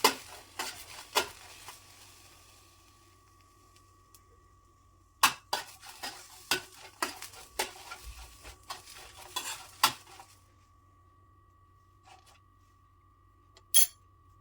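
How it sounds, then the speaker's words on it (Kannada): Dried red chillies dry-roast in a pan, with a scatter of sharp spatula clicks and scrapes in bursts, a quiet stretch between them, and a steady faint hum underneath, with no talk. "ಮೊದಲಿಗೆ ಒಣಮೆಣಸಿನ್ಕಾಯಿನ ಡ್ರೈ ರೋಸ್ಟ್ ಮಾಡ್ಕೋಬೇಕು"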